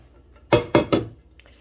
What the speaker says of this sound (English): put them into a large stock pot